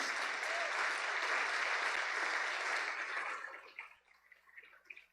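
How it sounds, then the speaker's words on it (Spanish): A church congregation applauding during a Sunday service, dense steady clapping that holds for about three seconds and then fades out to scattered claps. "Puede darle un aplauso a Dios ahí."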